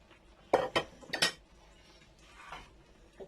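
Bacon being mixed into cooked spaghetti in a pot, a handful of sharp metallic clanks and scrapes of a utensil against the pot in quick bursts, then a quieter softer stir.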